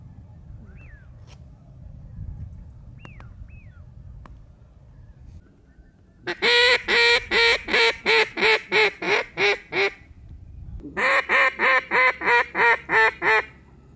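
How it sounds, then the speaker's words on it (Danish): Ducks and geese call from the shore on a coastal duck hunt, a few faint cries at first, then two loud close bursts of rapid rhythmic quacking and honking, each a dozen repeated calls. "Nu kan vi høre de første fugle derude."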